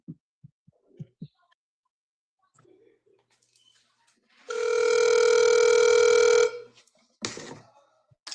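Steady electronic telephone ringback tone on an outgoing call, loud and continuous for about two seconds, with brief faint voices and noises before and after it.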